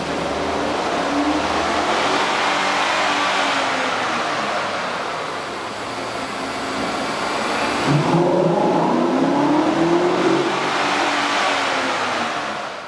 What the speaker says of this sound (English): You can really see and hear the difference the K&N air filter system will make to your truck.